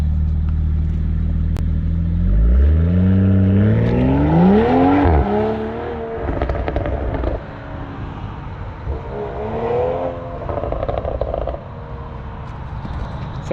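A 2021 Toyota Supra fitted with a new exhaust revs loudly from outside the car, holding a steady idle, then sweeping up in a sharp rise and fall, followed by a couple of shorter blips and a settling idle.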